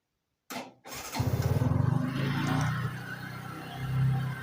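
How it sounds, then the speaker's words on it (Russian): A Bajaj Boxer motorcycle engine is started with the key: a short click and cranking, then the engine catches and settles into a loud, steady close-up idle. "Заводим с ключа."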